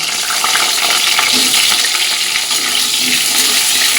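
Loud, continuous sizzling of yam and eggplant frying in hot mustard oil, a dense crackling hiss close to the microphone with a faint stirring scrape.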